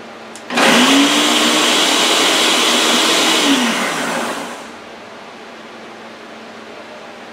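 A Ninja blender runs on its boost setting, starting abruptly with a loud, dense roar that holds for about three seconds, then winds down into a fading whir and leaves a quiet background.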